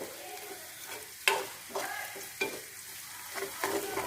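A spoon scrapes and stirs onions frying with red chili powder, coriander-cumin powder, salt and turmeric in a pan, steady soft sizzling broken by several sharp clinks of utensil against metal, close and moderately loud.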